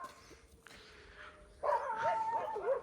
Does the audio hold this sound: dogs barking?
yes